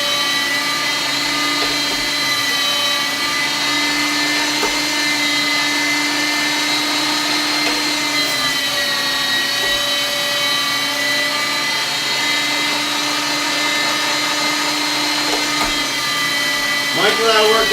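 A 5.5 horsepower meat grinder grinding moose meat runs with a steady, loud motor whine throughout, its pitch shifting slightly as chunks are fed through, with a brief rattling burst near the end.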